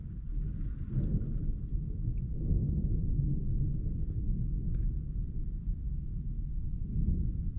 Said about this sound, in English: This is one of the craziest storms I've ever slept through in the van.